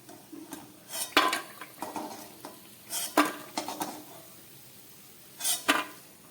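Fried lentil bori are lifted out of hot oil in a pan, with scattered metallic scrapes and clanks of a utensil against the pan over a faint sizzle, close by and without talk.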